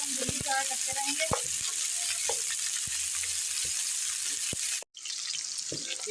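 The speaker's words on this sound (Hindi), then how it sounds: "जब तक गोल्डन ब्राउन कलर ना आ जाए हम भिंडी फ्राई करते रहेंगे।" Okra frying in hot oil until golden brown, a steady bright sizzle with scattered pops and a few clinks of stirring, dropping out for a split second before resuming.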